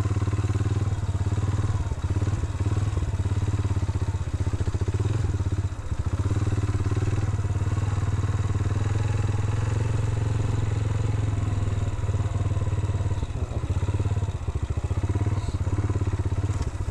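A motorcycle engine runs steadily nearby for the whole stretch, a constant low idling drone with occasional clatter and thumps, and no clear talk.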